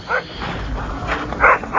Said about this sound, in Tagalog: tumatahol yung aso sa labas.